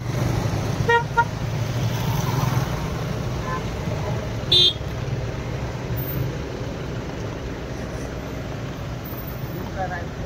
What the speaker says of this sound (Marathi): घाटात पण ट्रॅफिक जाम.